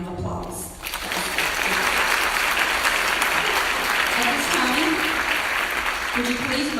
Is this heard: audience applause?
yes